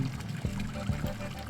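Rushing, pouring water of a waterfall in the video game Hypnagogia: Boundless Dreams, a steady close stream with a few soft thumps and faint game tones over it.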